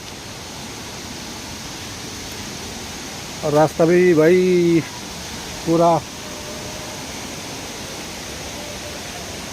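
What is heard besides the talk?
water roaring at a hidden waterfall in Assam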